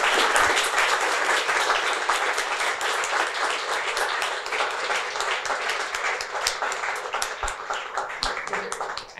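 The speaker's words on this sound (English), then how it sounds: "please just one more applause for him" An audience at an evening award ceremony breaks into warm, sustained applause, dense and full at first, then thinning slightly toward the end with individual claps becoming more distinct.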